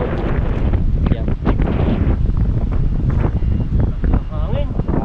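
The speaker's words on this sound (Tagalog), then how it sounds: "Hangin. Hangin yung naroon." Wind buffets a microphone beside a river in Taiwan, a steady loud rumbling roar that runs the whole time, with a person talking over it.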